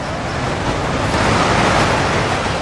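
Roaring water of Khone Phapheng, the largest waterfall on the Mekong, swollen in the rainy season: a loud, dense, continuous rush that holds steady throughout with no voices.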